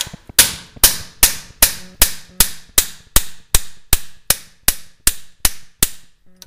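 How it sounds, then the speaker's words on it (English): A hammer drives a chisel into a front axle dust cap, about fourteen sharp, loud metallic strikes in an even, steady rhythm, close up with nothing else heard. "You just keep driving that chisel back in there until you can get a pry bar or something."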